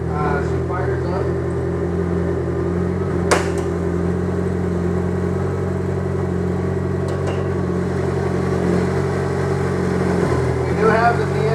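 A car engine idles steadily after starting up, a loud low rumble with a constant hum, broken by a few brief clicks and clatters near the start and end.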